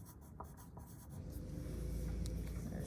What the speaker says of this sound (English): don't forget to write your name.